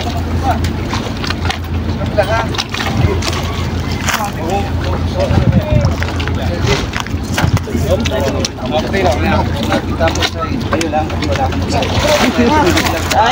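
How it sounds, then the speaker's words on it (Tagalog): Small boat motor running on the water near Jomalig Island, a steady drone under wind noise and constant chatter from people aboard. "Ayan ang motor."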